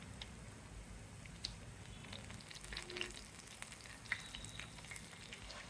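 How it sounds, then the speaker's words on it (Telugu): Vijayawada-style punugulu batter with green peas fries in hot oil, a soft, constant sizzle dotted with small crackles and pops, quiet and without talk. "నూనె పెట్టుకొని పునుగులు వేసేద్దాం."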